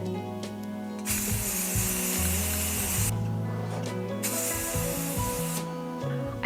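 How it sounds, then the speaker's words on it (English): Long bursts of white spray paint hiss from an aerosol can onto a vase, three sustained sprays separated by short pauses, close and loud. "I'm ready to spray paint."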